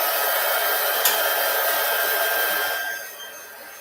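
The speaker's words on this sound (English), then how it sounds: "And now we are going to heat emboss this, and I will apologize for the noise." A heat gun blows a steady, loud hiss of hot air while heat embossing foil, holding constant before tapering off toward the end.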